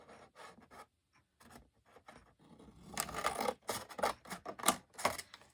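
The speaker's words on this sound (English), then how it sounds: "We're going to cut on this fold line right up to the edge." Scissors cut craft paper along a fold line, giving close, quiet crisp snips and rasping slices in irregular bursts that grow busier toward the end.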